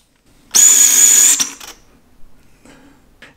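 Fuji GA645 medium format point-and-shoot film camera firing its motor: one loud, close whirring burst lasting under a second, then a brief mechanical click and faint handling noises in near silence.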